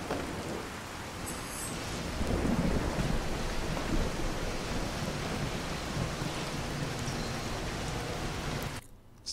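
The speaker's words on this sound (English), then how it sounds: "Was the rain that loud?" Steady, loud rain and rolling thunder in the video game Fallout 4 fill the scene with a dense, continuous roar that surges slightly midway, then cuts off abruptly near the end.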